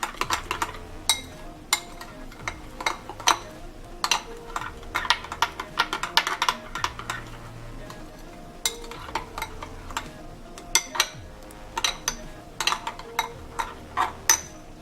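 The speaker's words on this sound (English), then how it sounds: "So I'm gonna mix it together." Tomato sauce being mixed for grilled tilapia gives a run of quick, close clicks and taps as a utensil knocks against a bowl, irregular and busy, with short pauses between bursts.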